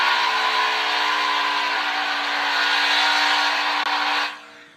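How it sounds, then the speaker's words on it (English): IndyCar race engines firing up for the Grand Prix of Long Beach, a loud sustained mechanical whine and roar with steady tonal hum that holds, then cuts off abruptly near the end. "Drivers, start your engines."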